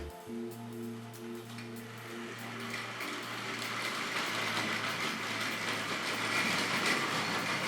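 A Tri-ang Railways B12 model locomotive rumbles steadily along a track, its motor humming with rhythmic clicking that grows slightly louder as it runs.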